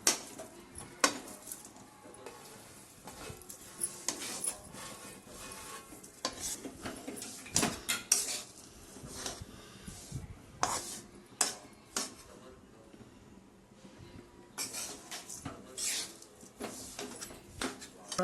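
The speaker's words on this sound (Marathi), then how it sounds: "अजून त्याला थोडं परतून घेऊ" Wheat flour laddu mixture with dried dates is sautéed in a pan, a spatula scraping and clinking against the metal in quick irregular strokes over a faint low sizzle, fairly quiet and close.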